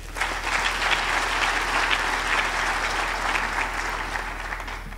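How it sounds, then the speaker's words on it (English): Sustained audience applause fills a graduation ceremony hall, dense and steady from start to finish with no talking over it. "they deserve yet another round of applause"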